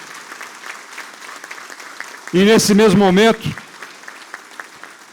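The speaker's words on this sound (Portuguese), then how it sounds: "eu peço efusivamente uma salva de palmas para esse diretor" Audience applause at a formal signing ceremony between two Brazilian traffic agencies, honoring a director, soft background clapping overlaid by someone speaking briefly at close range.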